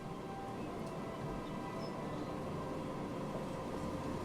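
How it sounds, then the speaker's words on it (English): A train in the Transport Fever 2 railway game runs along the line as a steady, continuous rumble with a faint metallic hum, even and unbroken throughout. "this train is an absolute workhorse"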